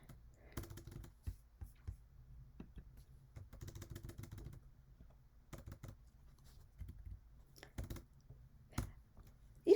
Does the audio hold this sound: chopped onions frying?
no